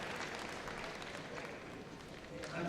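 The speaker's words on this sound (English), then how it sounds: "And Sylvester, the Border Collie, and getting a great cheer, very popular with the crowd." Crowd applause and cheering at Crufts for Sylvester the Border Collie, a broad, fairly distant wash of clapping that swells slightly at the end.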